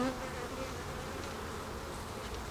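A dense, steady drone of many honeybees buzzing around a hive, close and continuous with no pauses and no voices over it.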